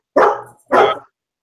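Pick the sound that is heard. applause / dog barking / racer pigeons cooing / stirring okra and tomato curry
dog barking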